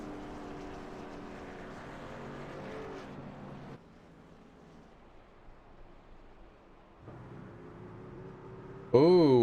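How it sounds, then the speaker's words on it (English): A race truck at Daytona drones with a steady engine note, then the engine cuts off and goes quiet while the truck coasts, before the engine note returns and a sharper burst of sound comes in at the end. "You hear him shutting it off. He's coasting around this track as much as possible."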